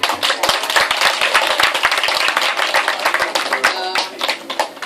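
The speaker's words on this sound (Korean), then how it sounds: "우리 함께 감사와 환영의 박수로 우리 김정순 목사님 앞으로 모셔서" A church congregation claps in welcome as a pastor is called forward for a parenting class, dense steady applause of many hands filling the room with a few louder close claps and faint talk mixed in.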